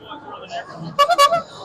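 A few quick, loud horn toots sound close by after a stretch of murmured background chatter at a haunters convention.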